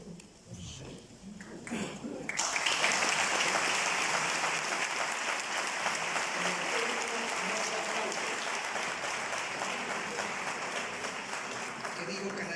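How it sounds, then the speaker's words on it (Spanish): A church congregation breaks into loud, sustained applause that swells after a few seconds of quieter murmuring and holds steady to the end, a dense wash of many hands filling the sanctuary. "pero el templo nos aplaude"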